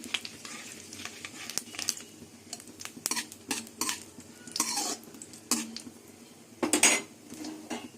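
A ladle scrapes and presses mustard paste in a pan, making repeated close metallic scrapes and knocks over a faint sizzle, irregular and fairly loud with no talking.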